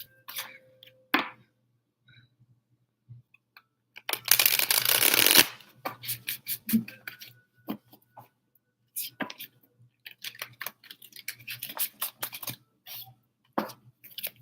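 Card shuffling: a dense burst of riffling lasting about a second, then scattered soft taps and card handling, with occasional quiet speech.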